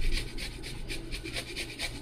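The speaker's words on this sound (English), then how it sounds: "with your grater, you want to go ahead and use the smallest side and grater a few cloves of garlic in this" Garlic cloves rasped across the smallest holes of a hand grater, giving a quiet, steady rhythm of scratchy strokes, about eight in two seconds, with no talking.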